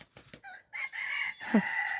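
A rooster crows in a long drawn-out call, fairly close and clear, preceded by a few short clucks.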